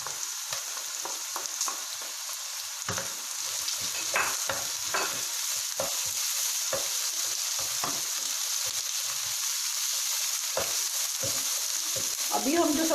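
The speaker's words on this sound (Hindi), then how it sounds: "तेज़ आंच पे बस स्टिर फ्राई करेंगे इनको हम" Vegetables including capsicum stir-fried on high heat sizzle steadily in a hot pan, a constant bright hiss broken by repeated scraping and tossing clatters of a spatula, close and moderately loud.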